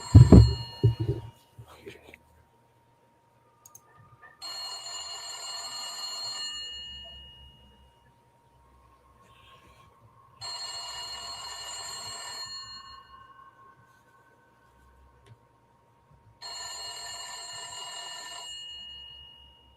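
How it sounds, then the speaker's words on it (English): An old, rusty telephone decades out of date rings in three long bursts of bright metallic bell clatter, separated by pauses of near silence. A brief burst of low noise comes before the first ring. "An old and rusty phone that looks like it dates back multiple decades abruptly begins to ring"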